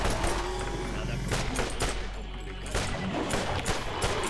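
Rapid bursts of gunfire from the video game Borderlands crackle through the scene, dense repeated shots with a brief lull midway, while a voice occasionally talks over the action.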